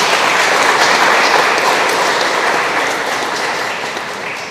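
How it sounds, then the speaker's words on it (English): Audience applause for a presenter at a bar association citizenship forum, steady dense clapping filling the room, loud at first and easing slightly toward the end, with no voices over it. "So if we could have a round of applause real quick for our second presenter as well."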